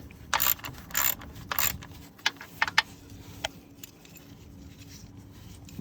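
Bolts on an Infiniti Q50 3.0t are tightened with a ratchet, giving a few quiet, close bursts of clicking and several sharp metallic ticks in a calm, low-level space.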